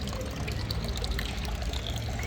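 Water running from a public drinking tap in a street in Cordoba, Spain, a steady close splashing stream that pours continuously without pause.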